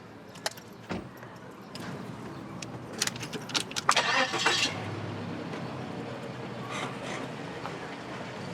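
A car engine turns over and starts near a parked car, mixed with jangling keys and a door clunk, then settles into a steady low idle.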